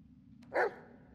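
A single short dog bark rings out in the Blair Witch horror video game, one sharp mid-distance yelp over a faint low background hum.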